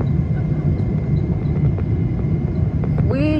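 A KLM airliner comes in to land on a Taipei–Manila route, heard from inside the cabin as a steady low roar of engines and airflow, with faint talk in the background.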